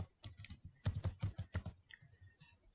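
Someone types briskly on a computer keyboard, a close run of crisp clicking keystrokes that thins out into a few scattered taps.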